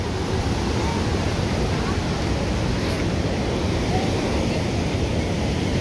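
Niagara Falls at the state park, a steady, loud broadband roar of falling water that fills the whole clip without a break.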